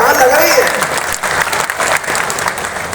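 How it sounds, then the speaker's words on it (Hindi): Loud, dense applause from a crowd at an outdoor rally in Mandi Pragan, Unhel, Ujjain district, sustained clapping throughout with faint voices mixed in. "जोरदार ताली बजाओ तो ऐसे लगे कि हाँ लग रही है।"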